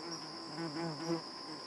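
Bees buzz in a continuous thin drone close by, rising and falling slightly in loudness, alone without talk.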